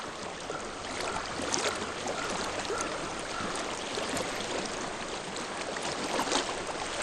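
Flowing water of a stream in the video game Hellblade: Senua's Sacrifice, a steady, fairly quiet broadband rush that continues evenly throughout with no talking.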